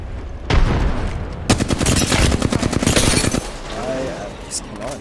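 Gunfire in the video game Apex Legends, where a frag grenade is thrown: a sharp burst opens, then a long run of rapid, evenly spaced automatic shots. A quieter, busy mix of game sounds follows.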